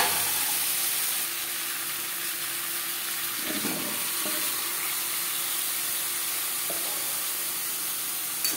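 Pumpkin and Malabar spinach stems fry in spices in a pan, a steady soft sizzle with occasional stirring scrapes near the middle.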